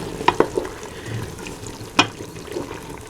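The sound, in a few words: hot oil poured into pan, sizzling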